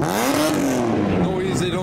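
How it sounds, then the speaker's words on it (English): A Tommy Mackinnon Mitsubishi Evo revs loudly at a JDM car show, its engine note rising and falling continuously with crowd chatter underneath. "We have the Tommy Mackinnon Evo as well. Noisy, noisy."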